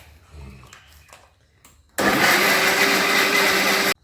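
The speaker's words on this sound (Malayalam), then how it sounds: "മിക്സിയിൽ നമുക്ക് എടുക്കണം, അടിച്ചെടുക്കാം." An electric mixer grinder whirs loudly and steadily as it blends batter for an evening snack, switching on abruptly after quiet kitchen sounds and running for about two seconds before cutting off.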